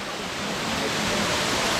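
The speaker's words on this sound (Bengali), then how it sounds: "এটাই কিন্তু নকাটা ঝর্ণা" Nakata waterfall on the Bilai Chhari stream pours in a dense, even rush of falling water, constant and fairly loud with no voices over it.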